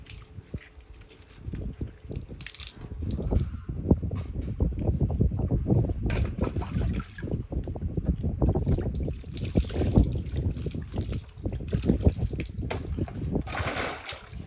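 Water poured over a dog during a bath, a close, continuous splashing trickle with uneven gurgles and spatters lasting throughout, no voices.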